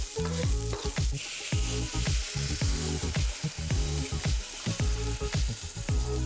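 Green onion whites, garlic and Chinese sausage fry hard in a wok, giving a loud, steady sizzle broken by repeated clatters of a utensil stirring against the metal.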